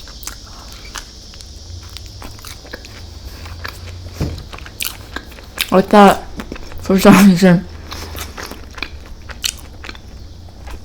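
Close, crisp bites and crunchy chewing on Taco Bell rolled chicken tacos come in scattered bursts, with a person speaking briefly in the middle.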